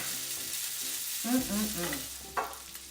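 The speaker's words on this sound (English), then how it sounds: "You're cooking the pasta a little bit further" Boiled pasta frying in oil and butter in a pan, a soft sizzle with stirring scrapes and a few louder clinks, fairly quiet and without speech.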